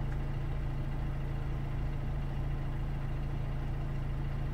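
A cold Mercedes W212 E250 diesel engine with a diesel particulate filter fault idles at a steady, low, constant rumble, close by and unchanging, with no voices.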